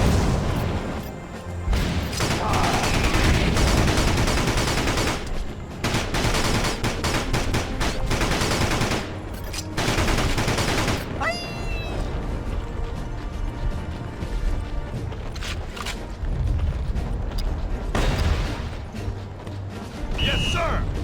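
Gunfire and crashing blasts from the GameCube war game Battalion Wars, dense bursts of shots repeating across the stretch amid loud battle noise and game music, with a voice speaking at times.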